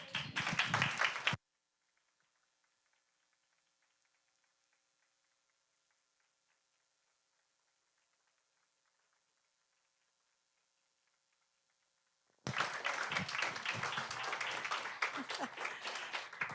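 An audience claps and cheers loudly for a couple of seconds, then near silence with faint ticking, then a long burst of applause returns.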